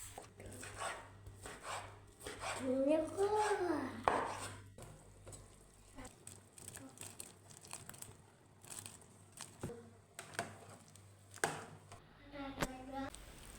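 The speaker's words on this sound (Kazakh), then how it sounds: "Осы кезде жаңағы тауық етін турап, оны да қосатын боламыз." A knife chops cooked chicken meat for a cheese soup in a home kitchen, giving scattered sharp taps, while a dog whines and whimpers nearby at moderate loudness.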